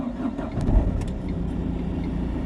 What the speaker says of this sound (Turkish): arabamızın motoru biraz ısındığı için biraz hır hır hır çalışacak